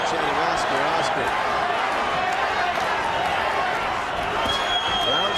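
A boxing arena crowd at an Oscar De La Hoya fight chants his name, a dense, steady roar of many voices filling the hall throughout, loud and continuous.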